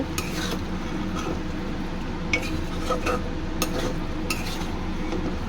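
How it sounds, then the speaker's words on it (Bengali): Potatoes and spices fry in a pan under a dense, steady sizzle, with light scrapes and clinks from stirring scattered throughout. "আলুগুলো দিয়ে একটু ভালো করে কষিয়ে নেব।"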